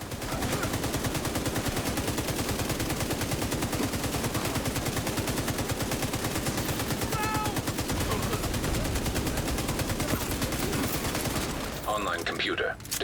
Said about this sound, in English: I'll use my LMG here.